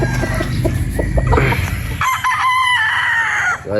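Boston Roundhead pullets and a straight-comb broodstag cluck close by, then a rooster crows loudly over the top, with no talking.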